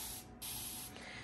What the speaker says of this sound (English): As you can see, it has like a continuous spray to it